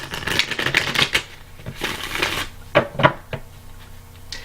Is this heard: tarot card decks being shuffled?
yes